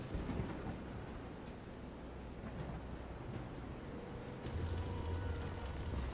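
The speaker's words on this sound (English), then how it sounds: "This is some storm." Rain and rolling thunder from a storm at sea in the video game Visions of Mana, a steady broad wash of rain with low rumbles and a heavier swell of water near the end, continuous and fairly loud.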